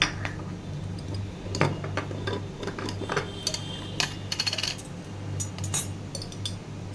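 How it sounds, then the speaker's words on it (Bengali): Poppy seeds poured into a container in a home kitchen, a scattered run of dry ticking and pattering taps of varying loudness over a faint background hum. "চলো পোস্তটা ঢেলে নিই"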